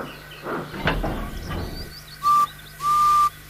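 A railway guard blows two sharp, steady whistle blasts near the end, alone and clear, following a stretch of rumbling train and yard noise at the start.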